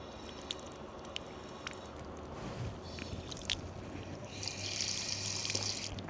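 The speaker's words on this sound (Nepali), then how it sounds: "जापानमा चाहिँ पानी खानलाई यस्ता पब्लिक धारा हुन्छ नि साथीहरू। यहाँबाट चाहिँ पानी आउँछ।" Water runs steadily from a public drinking tap on a street in Japan, a faint outdoor trickle under broad ambient noise, with a brighter splashing stream toward the end.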